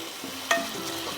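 Tomato paste sizzles and fries in a pan while being stirred for rui fish kalia, a soft steady sizzle with a brief sharp scrape of the spoon partway through.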